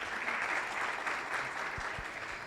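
Audience at a business summit panel on sustainability applauding an IPO, continuous crowd clapping at an even level from start to finish.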